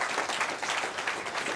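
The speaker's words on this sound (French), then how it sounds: "on peut l'applaudir" Applause from the audience at a round-table debate at a lycée, dense and steady throughout, fairly close, with no talk over it.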